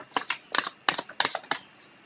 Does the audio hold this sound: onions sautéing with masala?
no